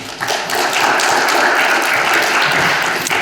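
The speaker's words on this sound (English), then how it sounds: "give him a round of applause as he comes up here" A conference audience applauds a keynote speaker with steady, dense clapping that carries on evenly throughout, loud and close, with no voices over it.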